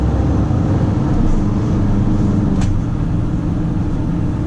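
A steady low truck engine rumble with road and wind noise fills the cab, windows partly down, constant and loud throughout.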